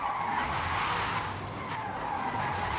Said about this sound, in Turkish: Elektrikli bir araç olduğu için sadece lastik sesleri duyuyorsunuz.